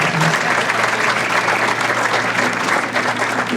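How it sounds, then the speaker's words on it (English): Loud, sustained applause from a large dinner crowd at a chamber of commerce annual event, a thick even roar of clapping hands continuing without a break. "How about a round of applause to Mary Beth?"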